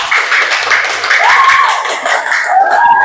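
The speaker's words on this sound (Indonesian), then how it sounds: "yuk beri tepuk tangan untuk kelompoknya Hisyam" Classroom clapping for a student group in an elementary lesson, a steady patter of hands mixed with children's voices calling out over it, fairly close and continuous for about three seconds.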